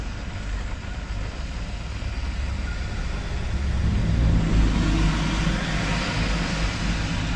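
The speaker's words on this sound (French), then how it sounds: "on voit qu'il y a un petit peu de circulation" Road traffic rolls past during a storm chase after a supercell: a steady outdoor rumble of passing vehicles that swells louder about halfway through, then eases off a little, with no talk.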